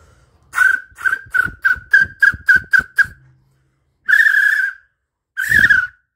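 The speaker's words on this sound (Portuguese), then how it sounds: "Fazer um apito de chamalambu." A homemade cork whistle blows loud, piercing bursts: a quick run of eight short toots, then two longer blasts after a pause, alone with no voices.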